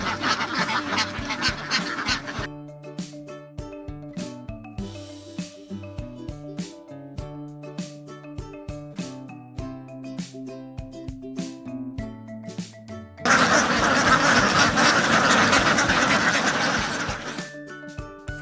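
A large flock of ducks on a Vietnamese free-range duck farm beside rice fields quacks and honks, with repeated overlapping calls and loud, dense bursts of flock noise at the start and again toward the end.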